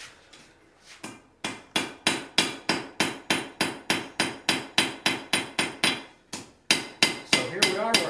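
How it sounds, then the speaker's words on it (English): A blacksmith forges a horseshoe into a heart, striking hot metal with a hammer in a steady run of about twenty sharp, ringing blows, close and loud, with a short pause midway and faint talk near the end. "So here we are, we're hammering for 1 inch."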